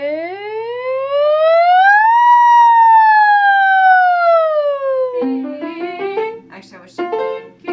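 A singer's voice imitates a siren in a vocal warm-up, gliding smoothly up and slowly back down in one long, loud, clear tone, followed by brief speech.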